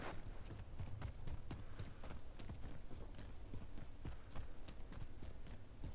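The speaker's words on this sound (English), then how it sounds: "I hear footsteps." Quick running footsteps pattering in Call of Duty's Reinforce mode, a fast, even stream of faint soft thuds over constant game ambience.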